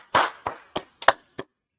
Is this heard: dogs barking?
no